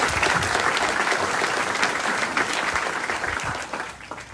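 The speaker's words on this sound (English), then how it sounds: "Would you give them a nice round of applause for each of them?" A crowd at an outdoor church service applauds the volunteers, with steady, dense clapping from many people that tapers off gradually toward the end.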